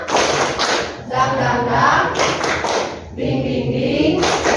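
Group of people doing the tepuk semangat clapping game in a classroom, loud rhythmic bursts of clapping with chanting voices in between, close and energetic.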